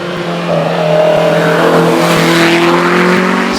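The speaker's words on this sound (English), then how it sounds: "Jane Millward into the braking area for the S's now in the Series 3 Elan" A Lotus Elan Series 3 race car brakes hard into the S bends at Shelsley Walsh hillclimb, its engine note loud and close, dropping and then climbing as it downshifts and pulls through, with tyres scrubbing faintly.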